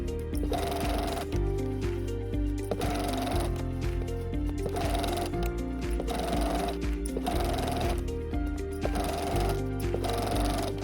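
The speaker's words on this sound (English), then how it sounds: "Sew along the pinned edge using a 1/4 inch seam allowance." A home sewing machine stitches the pinned seam of a summer scrub cap at a 1/4 inch allowance, its needle motor running in rapid repeating bursts with brief pauses between runs, close and steady with no talking.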